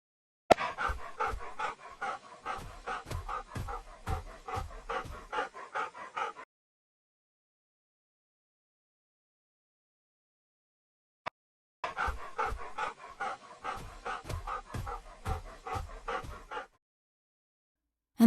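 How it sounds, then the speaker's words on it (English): Deep, slowed-down wolf panting comes in two rhythmic bursts separated by silence, each a run of heavy, drawn-out huffs close up. "This wolf is running in slow motion, so it's only fitting that we slow down his breathing"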